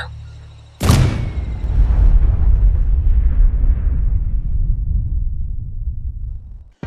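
A hover tank cannon fires with one sudden loud blast, followed by a long rolling rumble of explosion that slowly fades over several seconds, after a short radio-style voice beforehand.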